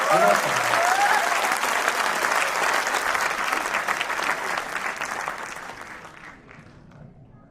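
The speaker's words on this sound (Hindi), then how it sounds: "बहुत जोरदार तालियां रही" Loud applause fills a hall during a Hindi comedy poetry show, a dense round of clapping with a short whistle at the start, gradually thinning and dying away at the end.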